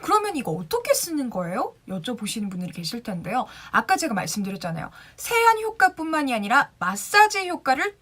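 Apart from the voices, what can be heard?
No distinct noise like a dog, phone or traffic.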